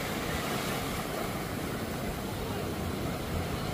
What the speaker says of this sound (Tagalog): Hintayin natin yung magandang hampas ng alon.